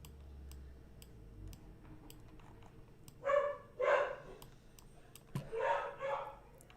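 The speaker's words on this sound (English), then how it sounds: "He's barking at everything." A dog named Sam barking indoors, two pairs of sharp barks with a short pause between them, fairly close and loud against a quiet ticking background.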